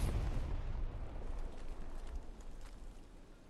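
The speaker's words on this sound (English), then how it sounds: "Just artillery, I believe." A heavy artillery blast in the World War II shooter Hell Let Loose, one deep booming impact that rolls off into a fading low rumble, heard alone.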